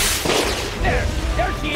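Gunfire in the adventure video game Jack Keane 2: The Fire Within, a few sharp booming shots with whooshing tails in quick succession, loud and close, with game effects layered around them.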